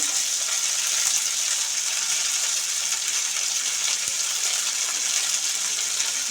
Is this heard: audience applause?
no